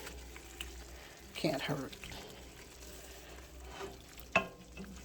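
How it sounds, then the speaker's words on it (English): Bacon sizzles quietly in a covered pan and is stirred, with a few scraping and clattering touches and a sharp knock near the end, under a brief spoken remark. "I'm going to go ahead and just stir them."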